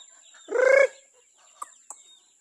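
A hen gives a short, loud clucking call, followed by a couple of faint, brief clucks against a quiet background with a steady high tone.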